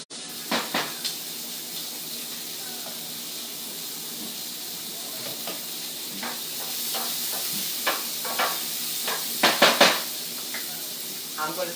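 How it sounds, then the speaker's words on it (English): Onions cooking in a pan give off a steady steaming hiss and sizzle, with scattered spoon scrapes and clinks against the pan growing busier toward the end, close by and without talk. "it doesn't take long for the onions to cook. This is starting to steam."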